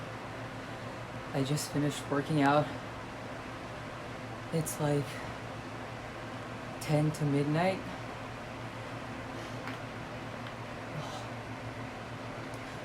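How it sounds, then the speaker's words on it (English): Electric fan running in a room, a steady even whooshing hum throughout, with a person speaking briefly over it in a few short bursts. "sorry for the noise, but I have my fan on."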